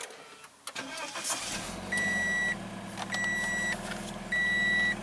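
A 2019 Subaru BRZ Limited with an automatic transmission has its engine started after a short starter crank, then idles quietly under three repeated electronic chime tones from the dashboard, recorded inside the car.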